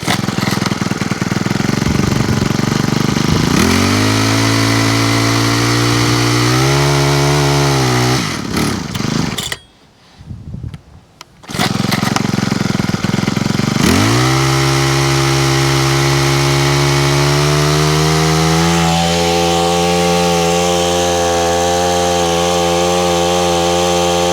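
A Honda HHH25 small engine, freshly fitted with a replacement carburetor, runs loudly and steadily, sputters and cuts out for a couple of seconds, then catches again and settles into a rising, sustained drone.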